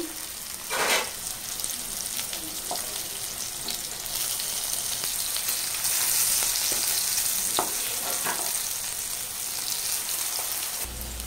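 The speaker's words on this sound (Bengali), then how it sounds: "কাঁকরোলগুলো ভেজে নেব" Spiny gourd pieces coated with salt and turmeric fry in hot oil, giving a dense, continuous sizzle and hiss close by, broken by occasional sharp clicks of a utensil against the pan.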